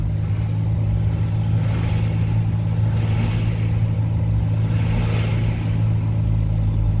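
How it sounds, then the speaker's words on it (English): Diesel engine of a 2008 Ford F350 dually 4x4 crew cab being revved, a steady loud rumble swelling in a few gentle surges over idle, with no talking. "Let me rev it up for you so you can hear the engine"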